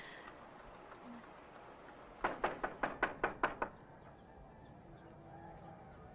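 Knocking on a wooden door, a quick run of about eight sharp raps in steady rhythm, fairly close and standing alone against a quiet room background.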